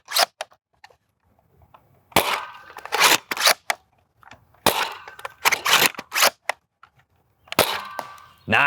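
Wrenfield shell-firing foam blaster, a primary that loads shells: several sharp, snappy pops come in quick clusters with short gaps between them, alongside small clicks and clacks of handling and barely any talk.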